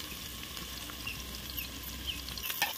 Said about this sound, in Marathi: बारीक चिरलेला कांदा आता कांदा आपल्याला थोडा लाल बुंद होईपर्यंत तेलामध्ये परतवून घ्यायचं